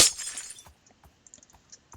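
Glass shatters in the Minecraft video game, a sharp bright crash at the start followed by a scatter of small tinkling fragments fading out.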